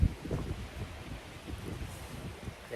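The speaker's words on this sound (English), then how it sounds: "Yeah, the wind here." Wind blowing across a cemetery in November, a steady low rumbling gust with microphone buffeting, fairly faint and continuous with no talking.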